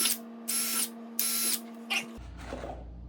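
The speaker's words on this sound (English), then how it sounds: "we're gonna drill these holes right here" Power drill boring holes for truck step screws on a 2014–2019 Chevy GMC, in several short whining bursts separated by pauses, close and fairly quiet.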